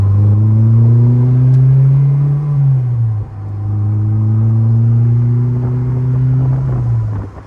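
A Honda S2000 roadster being driven on the road, its engine rising steadily through two pulls with a brief dip between, loud and close from inside the cabin.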